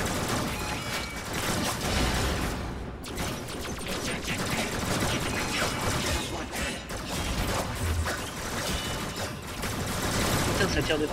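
Dense, continuous gunfire rattles from every direction in the video game Warframe, loud and unbroken, with mechanical clatter and crashing effects mixed in and some talk underneath.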